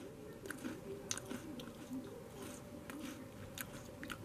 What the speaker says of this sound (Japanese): ビスケットを一つ食べてみれば